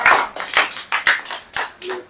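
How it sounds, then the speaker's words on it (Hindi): Scattered hand claps from an audience at a Christian sermon in a church hall, a few loud sharp claps landing irregularly with brief gaps, close and not sustained. "ताली नहीं बजाओगे?"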